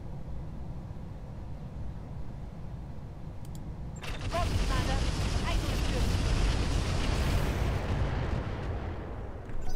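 Weapon fire in the BattleTech mod Roguetech, a sudden dense roar of heavy mech guns and explosive impacts erupting after a quieter stretch and sustained loudly for several seconds, with a low rumbling bed throughout.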